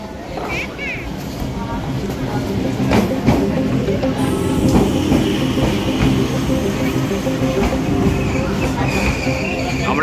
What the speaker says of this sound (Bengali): আমাদের ট্রেন এখনই চলে আসবে।